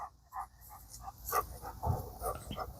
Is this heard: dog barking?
yes